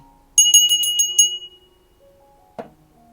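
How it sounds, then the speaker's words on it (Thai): A small bell is shaken in a quick run of about six bright, ringing strikes that fade out, followed after a pause by one softer single clink. The sound is clear and near, with no voices. "สั่นกระดิ่ง"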